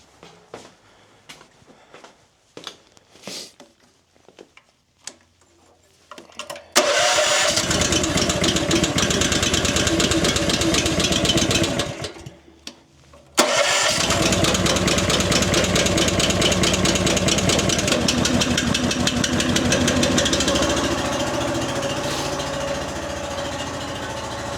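A firewood splitter's engine cranks in several short bursts, then catches and runs loud and steady, cuts out briefly, and restarts to a sustained rough idle while warming up.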